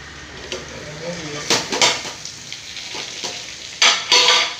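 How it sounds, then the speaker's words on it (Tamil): Ivy gourd sizzles in hot oil as a utensil stirs and scrapes against the pan, with a few louder clatters. "எண்ணெயிலே கிண்டி கிண்டி விட்டு இன்னும் ஒரு பத்து நிமிஷம் வேகணும்"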